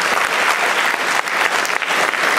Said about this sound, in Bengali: একটি হাততালি দিই আমরা।